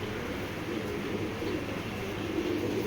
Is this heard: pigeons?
yes